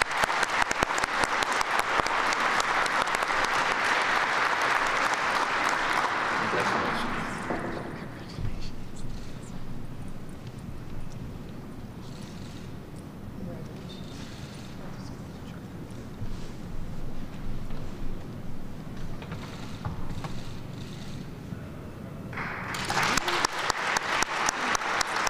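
An awards ceremony audience bursts into loud, dense applause for the Kathy Osterman Award honorees. The clapping falls away to quieter room noise with some talking, then rises again into a strong burst near the end.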